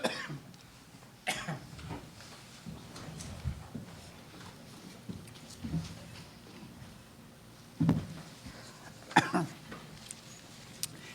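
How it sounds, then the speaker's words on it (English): A few scattered coughs, some muffled and some sharper, spread out over quiet room noise with pauses between them. "if I can stop coughing"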